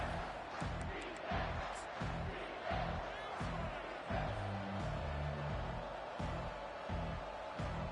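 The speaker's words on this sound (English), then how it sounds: "the noise from this crowd on 3rd and 4" Football stadium crowd noise on third down, a dense, steady roar of cheering with rhythmic pulses, moderately loud throughout.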